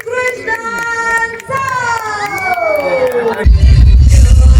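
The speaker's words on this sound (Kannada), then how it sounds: "ನಮ್ಮೆಲ್ಲರ ಚಪ್ಪಾಳೆಯೊಂದಿಗೆ ಸ್ವಾಗತಿಸಿ" A large outdoor crowd at a stage event cheers and whoops for the singer, a loud roar that swells and fills the final second over a sung or sustained melodic voice.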